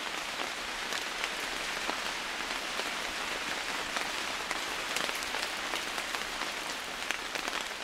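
Steady rain falls on grassland in the African savanna, a dense, even hiss of drops with scattered sharper patters spread over the whole stretch, no voices.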